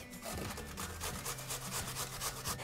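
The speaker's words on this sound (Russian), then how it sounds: "Теперь картофель нужно натереть на крупной терке." Potatoes are grated on a coarse grater, giving a steady rhythmic rasping scrape of quick strokes, fairly faint and close.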